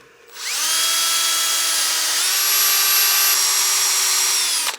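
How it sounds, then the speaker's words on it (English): A power drill, used as a lathe to sand a cake stand, whirs continuously at high pitch, its tone stepping briefly as it switches direction partway, then winding down at the end. "you can hear me switching the direction of the drill"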